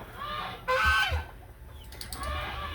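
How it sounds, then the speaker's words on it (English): Broody hens and a broody turkey cluck and honk close by in a poultry pen, a loud burst of calls followed by softer clucking and low murmurs. "I have a broody turkey and 3 broody hens."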